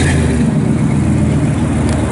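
A 1966 Chevrolet Impala engine runs with a steady, loud, close rumble and slight revving throughout, with no voices over it.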